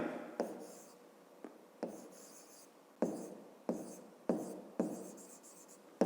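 Pen or chalk writing during a fifth-grade geometry explanation, a series of short scratchy strokes in bursts with brief pauses, close and fairly quiet, with no talk.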